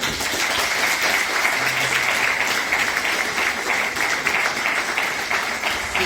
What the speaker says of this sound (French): je sais qu'on peut les applaudir